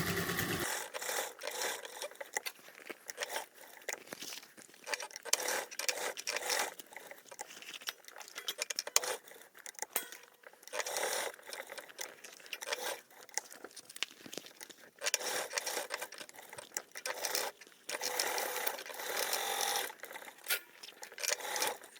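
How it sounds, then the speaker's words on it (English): A sewing machine stitches the box corner of a large foldable tote bag, running in a steady rapid patter for over twenty seconds with brief pauses and fabric rustling. "So we'll take her over to the sewing machine and we're going to sew and do the box corner as well."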